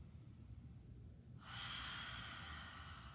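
Ujjayi-style breath during a gentle yoga session, a long whispered exhale through an open throat like fogging a window, rising as a steady airy hiss after a quiet start and holding close and alone.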